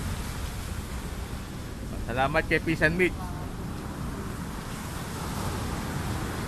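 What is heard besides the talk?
big sea waves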